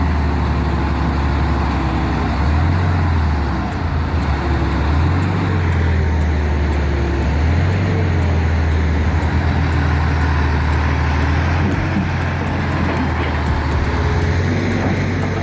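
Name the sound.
Hyundai excavator straining in a swamp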